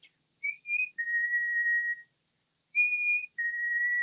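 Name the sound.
whistled imitation of a bird call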